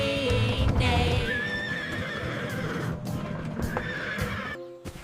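Horses neigh and whinny in a children's farm-bus song, with several loud, close neighs over a sung musical backing and a faint clip-clop feel, ending abruptly.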